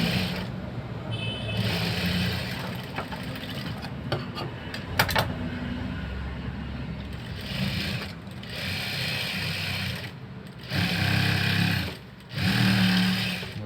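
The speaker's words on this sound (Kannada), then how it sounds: "ಮತ್ತೆ ಹಿಂಗೆ ತಿರ್ಸ್ಕೊಂಡು ಒಂದು ಸ್ಟಿಚ್ ಹಾಕೋಬೇಕು" Domestic sewing machine stitching a side-peeping blouse, running in steady buzzing bursts with short pauses and a few mechanical clicks between runs, close and fairly loud with no talking.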